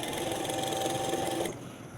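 A sewing machine runs steadily, stitching fabric strips for a cut-work sleeve design, a close, even whirring hum that stops abruptly partway through, leaving only quiet room noise.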